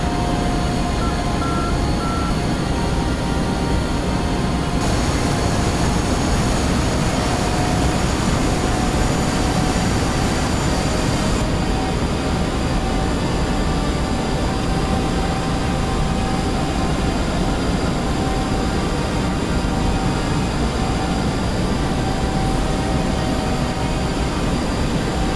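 An F-5E jet lands at night in DCS World, its engine a steady, unbroken roar with a thin whine running through it, loud and constant from start to finish with no voices.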